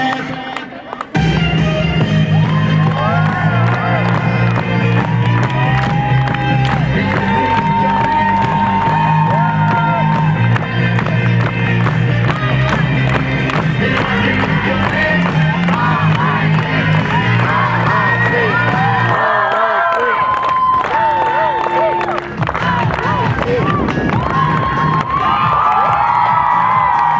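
A school audience at a last-bell flash mob cheers, whoops and shouts loudly and without a break, with children's voices rising over a dense, sustained roar of applause and crowd noise.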